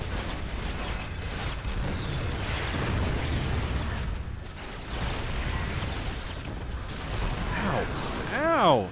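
StarCraft 2 siege tank shots landing amid a dense battle: heavy booming impacts, mechanical clatter and bursts layered continuously, with a rising whistling tone near the end.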